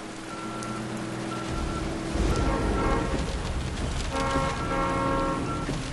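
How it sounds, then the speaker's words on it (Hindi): Heavy rain pours in a steady broadband hiss, with car horn tones sounding over it in two bursts. The downpour grows louder partway through, and no one speaks. "बारिश बहुत तेज हो रही है।"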